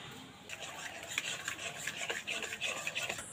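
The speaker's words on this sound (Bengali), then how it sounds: "সুজিটা এইভাবে নাড়তে থাকবো আর একটা ডোর মতন করে নেব।" Semolina cooking in milk is stirred into a dough in a pan, soft continuous rubbing and scraping of a spoon against the thick mixture, close and fairly quiet, no speech.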